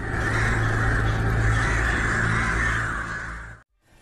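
CGI crows in the superhero film Gundala, cawing loudly over a dense, continuous background bed of sound that runs for several seconds before cutting off abruptly near the end.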